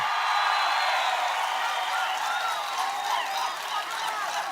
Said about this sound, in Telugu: ఆశీర్వదిస్తామని గట్టిగా చప్పట్లు కొట్టి చెప్పండి